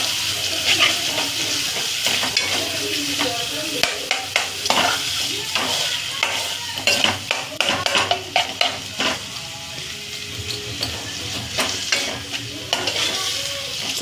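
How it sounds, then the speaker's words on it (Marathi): Chicken keema sizzles steadily in a pan on low heat while a spoon stirs it with repeated scraping clacks, close and moderately loud, with no talking. "चांगला हलवून घ्यायचं"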